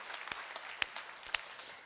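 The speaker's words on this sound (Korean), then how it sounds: "우리 박수로 하나님께 한번 영광 올려드리겠습니다" A church congregation claps after the worship musicians play, a thin, faint scatter of clapping with a few sharper individual claps standing out, distant in the room.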